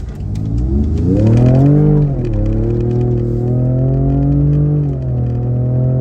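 A 2020 Ford Raptor truck accelerates hard, its engine note climbing in pitch, dipping at a gear change and rising again, loud and close with no one talking.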